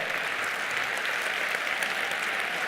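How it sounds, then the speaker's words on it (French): A hall audience at a corporate awards day in Paris breaks into dense, steady applause for two diamond-rank honourees, the clapping even and sustained throughout. "Joëlle, André, si vous voulez bien vous lever et qu'on puisse vous applaudir en tant que diamant."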